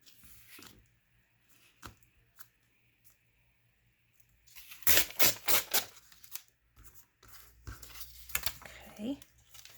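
Paper from a junk mail window envelope torn by hand in a quiet room, with a few isolated crinkles and then a burst of ripping tears in the middle, while a person speaks briefly.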